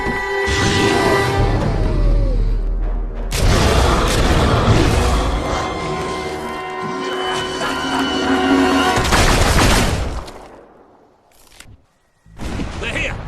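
Heavy bursts of gunfire and booming blasts at the gates in the video game Fable 3, loud and dense in clustered volleys separated by brief lulls, with shouting voices mixed in.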